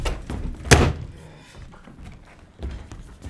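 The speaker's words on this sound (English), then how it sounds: "Can you grab the door for me, sir?" A door shuts with a single solid thunk early on, close and loud, followed by faint shuffling and a softer knock near the end, in an otherwise quiet room.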